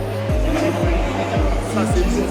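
An Alpine hypercar race car roars past in repeated swooping engine sweeps, loud and close, while a person speaks briefly over it.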